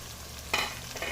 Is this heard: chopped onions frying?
yes